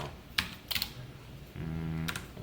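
Someone types Java code on a computer keyboard: a few sharp separate key clicks, then a soft steady hum under one more click, quiet and near, with no talking.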